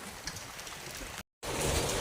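Heavy rain pours outdoors in windy weather, a steady close hiss of drops that cuts out briefly and returns louder.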